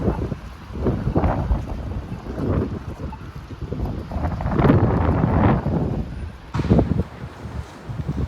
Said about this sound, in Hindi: नेक्स्ट क्लिप में आपको हवा की आवाज़ आएगी